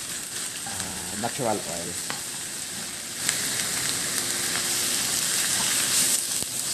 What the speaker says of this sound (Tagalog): Baliktarin lang natin ang ating chicken para ma-saute po siya ng maayos.